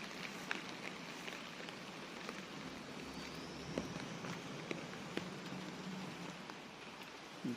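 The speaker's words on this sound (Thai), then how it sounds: "ฝนซ้ำตกโอ้บรรยากาศเงี้ยๆสิ" Rain falls steadily in a soft, even patter across surfaces, fairly quiet and continuous, with a few sharper drips and taps breaking through.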